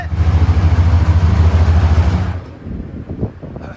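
A GV Nascar engine runs steadily on a dyno with a deep, loud, even drone, then cuts off abruptly and sputters and pops as it winds down.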